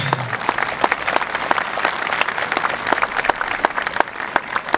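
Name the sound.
audience applause at commencement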